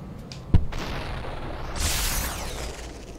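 A sharp gunshot bang rings out early, followed by a sustained rumbling, whooshing blast that swells and fades, like game weapon fire and an explosion.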